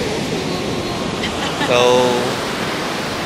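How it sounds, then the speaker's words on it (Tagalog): Sea waves wash onto a beach at San Vicente, Ilocos Sur, as a steady broadband rush with a slight swell near the middle. Someone speaks briefly over it. "Ayan, dagat."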